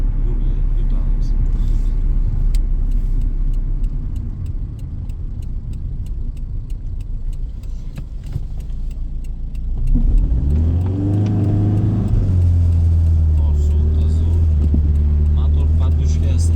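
A Daewoo Nexia with tuned engine firmware rumbles and then accelerates hard, the engine note rising in pitch as it revs up, loud and close from inside the car, with a voice talking over it.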